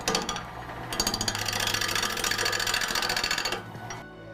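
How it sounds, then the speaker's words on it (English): A gouge cuts into wood spinning on a lathe, giving a close, rapid chattering and rasping that holds steady for about three seconds before tapering off. "We're gonna use the gouge to start shaping it."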